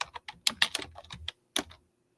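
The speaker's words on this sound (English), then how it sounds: "I hear tapping keys." Keys are tapped on an old Dell Gateway computer keyboard, a close burst of quick irregular clicks that pauses and then gives a few last strokes, with no one talking.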